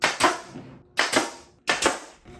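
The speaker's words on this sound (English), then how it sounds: "there's not many more sounds more satisfying than the nail gun." Nail gun firing into wood during a 1930s house restoration: three sharp loud shots, each a quick double crack, spaced about a second apart, close up with no talking.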